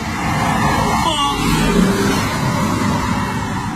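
A car overtakes during reckless driving on a road, its engine and tyre noise a steady, fairly loud roar throughout with a slight swell midway, mixed with distant crowd-like murmur.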